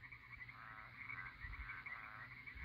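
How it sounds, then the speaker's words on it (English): Frogs croak in a steady, layered chorus at night in the countryside at a winery in eastern Washington, a moderately distant and continuous sound without any voices. "tonight we'll be sleeping to the melodies of the frogs and the crickets in a country setting"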